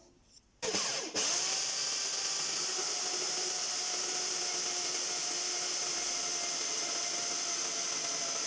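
A steady, loud high-pitched whine of a Scheppach MBS1100 metal band saw cutting a 20 mm round steel bar, starting abruptly after a brief quiet moment and holding continuously to the end.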